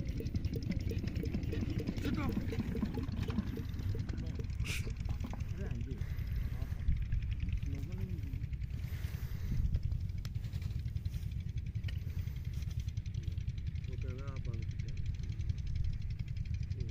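A Petter diesel engine runs a belt drive, chugging in a fast, even rhythm at moderate distance, with people talking over the mechanical clatter throughout.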